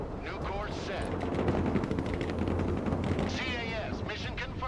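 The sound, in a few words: artillery gun firing in Broken Arrow video game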